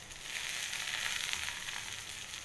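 Hot oil sizzles and crackles steadily in a frying pan as ginger goes in while cooking taki fish bharta, a bright continuous fry at close range with no talking.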